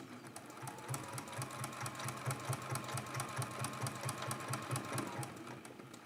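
A sewing machine stitches a quilt block with a fast, steady mechanical rhythm of needle strokes and a low motor hum, running evenly and fading out near the end.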